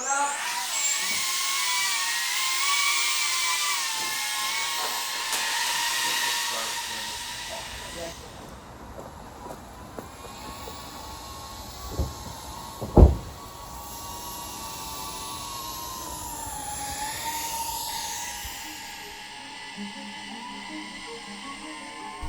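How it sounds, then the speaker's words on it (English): An FPV drone taking off and flying nearby outdoors, its high whining buzz loud at first then shifting in pitch as it climbs away, with a sharp thump partway through. "Drone's going up."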